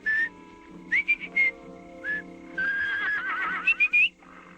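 Horses at an inn give high, wavering whinnies and whistle-like neighs in several short bursts, then a longer, louder call ending in a rising squeal, close and clear.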